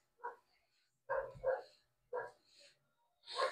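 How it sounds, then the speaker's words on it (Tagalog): A dog barks several times in short bursts, separated by pauses, sounding fairly faint and somewhat distant, with no talking over it. "Yan ang aso."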